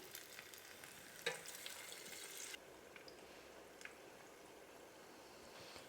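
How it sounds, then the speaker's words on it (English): Quiet, continuous sizzling of falafels frying in hot oil in a pan, with a few soft pops and crackles. "if you drop a little bit in, it sizzles all around"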